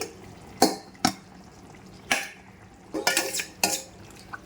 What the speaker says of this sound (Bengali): এবার আমি দুটো আলু গেলে দেব জাস্ট দুটো আলু এইভাবে নিয়ে গেলে দিচ্ছি